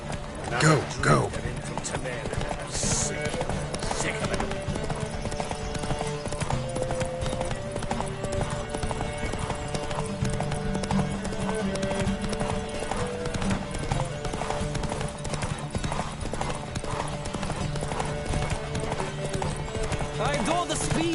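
Horses gallop hard in a race in The Witcher 3, a steady run of hoofbeats over game music and ambience, with voices talking across it.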